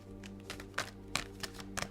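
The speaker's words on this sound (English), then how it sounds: "I'm going to shuffle and I'm going to pull another 2 cards." Tarot cards being shuffled, heard as a few soft, brief riffling bursts spaced about a quarter to half second apart. Quiet and close, with no talking.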